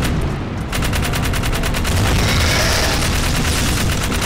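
Rapid automatic gunfire from Jak 3 on PlayStation 3, a steady stream of loud, close shots that rattle on without a break for several seconds, with no voices over it.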